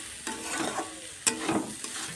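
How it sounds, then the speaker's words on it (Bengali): Vegetables frying with salt and turmeric hiss softly in the pan while a spatula scrapes and stirs them in about four distinct, close strokes. "দিয়ে আমি সবজিগুলো আর একটু ভালো করে ভেজে নেব"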